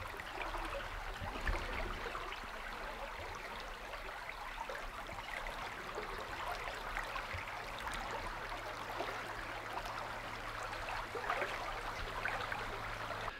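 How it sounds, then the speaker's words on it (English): A creek flows around a campsite beside a log bridge during a moose hunting trip in Alaska, giving a steady, even wash of running water that holds at a constant moderate level throughout, with no voices. "We got a creek right here that wraps around camp."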